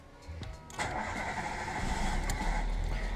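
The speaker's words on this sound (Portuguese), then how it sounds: "E o carro tá na gasolina, demorou a pegar?" A gasoline-fuelled car engine cranks slowly before catching, then settles into a steady running rumble close by, with no talk.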